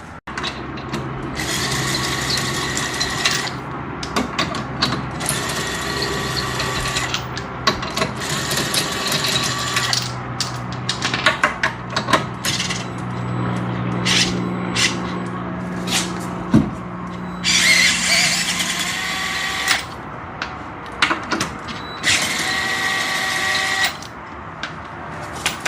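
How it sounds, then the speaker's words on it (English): A steady, busy mechanical whirring and clicking from a ratchet or power tool taking lug nuts off a Saturn Sky wheel. It runs nearly continuously in close, loud bursts with brief pauses and no talking. "And now I can take these lug nuts off."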